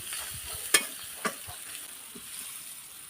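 Turmeric fries in oil for lentil dal with a soft, even sizzle, and a couple of sharp utensil taps and scrapes stand out near the start, close by and without talk.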